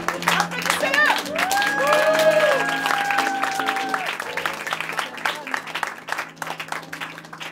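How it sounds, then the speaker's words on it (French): An audience at a Paris 72-hour improv festival claps and cheers for several seconds, with voices and a few high calls rising over the applause before it thins out toward the end. "Applaudissez-le."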